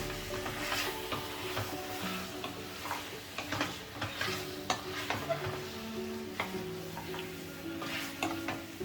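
Lamb chops coated with salt, chili and spices sizzle as they are stirred in a pan on high flame, a steady frying hiss broken by regular scraping and clinks of the spoon against the pan.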